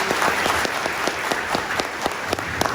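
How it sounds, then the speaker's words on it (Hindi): Audience applause fills a hall at a leadership and mentoring event, dense steady clapping with sharp individual claps standing out, moderately loud throughout. "एडवांस जोरदार ताली उनके लिए,"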